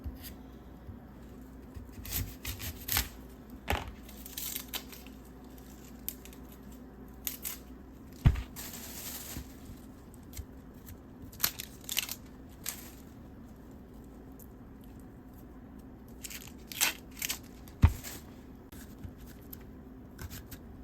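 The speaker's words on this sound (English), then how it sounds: "So just cut like 4 slits in the onion." A knife cuts slits into a sweet onion on a board, producing scattered soft taps and crisp slicing clicks at irregular intervals over a quiet kitchen background.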